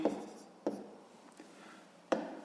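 Pen on paper, faint and close, with a few short scratchy strokes and taps while writing out a sixth-grade fraction math answer; quiet room with no talk.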